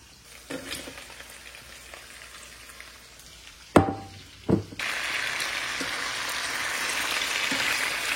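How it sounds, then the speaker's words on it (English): Frozen broccoli florets and purple onion frying in a pan: quiet crackling, then a couple of sharp knocks as the vegetables drop in, followed by a loud, steady sizzle. "a bag of frozen broccoli florets, and we will be adding that to the pan right now"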